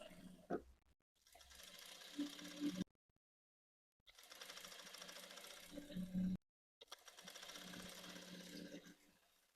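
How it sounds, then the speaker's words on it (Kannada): A sewing machine stitching fabric runs in three steady whirring bursts separated by brief pauses, close and fairly quiet. "ನಿಧಾನಕ್ಕೆ ಈ ರೀತಿ ಸ್ಟಿಚಿಂಗ್ ಮಾಡ್ಕೊಂತ ಬನ್ನಿ"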